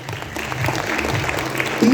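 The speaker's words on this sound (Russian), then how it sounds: "Ваши аплодисменты." Audience applause at an IT bootcamp award ceremony honouring the best in each nomination, a steady mass of clapping throughout that swells louder near the end, with some voices mixed in.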